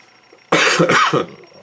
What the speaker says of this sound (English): pardon this stupid 8-month cough